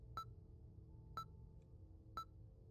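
Three evenly spaced electronic beeps from Five Nights at Freddy's, set in Fazbear's Fright, each short and bright, about a second apart over a low steady background hum.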